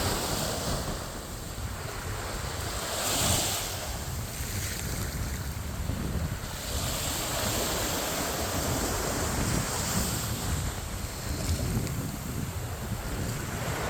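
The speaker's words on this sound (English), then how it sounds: "waves lapping gently, the sky painting itself in orange and pink" Ocean waves roll onto a sandy beach in a steady wash of surf, mixed with gusty wind buffeting the microphone, with a couple of slightly louder swells and no voices.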